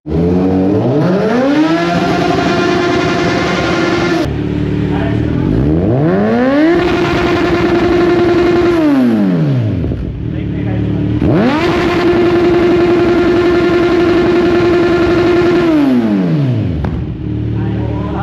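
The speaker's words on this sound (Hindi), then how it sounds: "इनकी बाइक रेडी हो गई है, अब यहाँ से निकल रहा है। इनके में लगा हुआ है फुल सिस्टम एरो" A motorcycle fitted with an Arrow full-system exhaust revs loudly and rides off, its engine pitch rising, holding high and falling again in repeated long surges.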